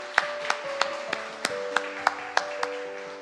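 A church congregation claps in rhythmic unison to welcome a guest, about three sharp, even claps per second over a sustained tonal background.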